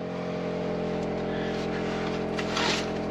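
Mini Cooper S R53 engine idling steadily with a constant tonal hum close up, with a brief rustle near the end as the car sets off for a drive.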